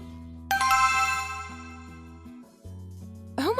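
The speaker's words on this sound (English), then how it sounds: "it kept ringing and I thought it was best to just answer it" A mobile phone ringtone rings out loud and close: a bright tonal melody of bell-like notes over a sustained low tone, breaking briefly before the tune restarts.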